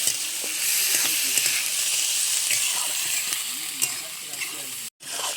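Large prawns fry in a hot pan with onion, a steady bright sizzle running close and continuous, with occasional stirring clinks and a short break near the end.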